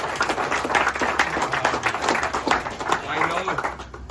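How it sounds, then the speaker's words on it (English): Applause from an audience at the closing of the Great American Monkey 1000 rally, with scattered hand claps mixed with crowd noise and voices throughout. "So give yourself a round of applause."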